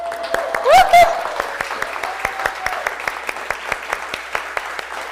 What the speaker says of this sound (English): Now it's time for some applause.